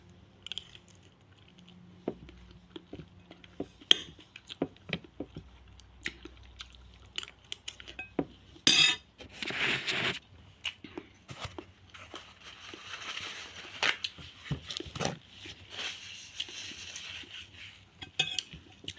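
Cutlery and dishes clink and scrape through a quiet home dinner of kinilaw tomato, tuyo and hotdog, with scattered taps, soft chewing and occasional louder clatters.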